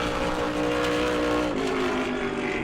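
A NASCAR Whelen Modified race car on a qualifying lap at New Smyrna roars loudly and close with a sustained high engine tone, its pitch dropping as it passes, with no talk over it.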